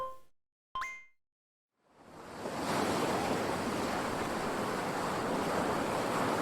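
A couple of short electronic blips, a pause, then steady ocean surf rushes in and washes continuously, full and close.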